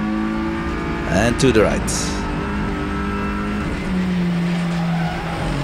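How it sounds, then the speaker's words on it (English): An Audi RS3 touring race car at the Hungaroring scrubs its tires at the limit, with sharp squealing bursts around the middle over a constant loud engine drone, while someone speaks briefly. "Oh, you hear the tire squeezing on the limit."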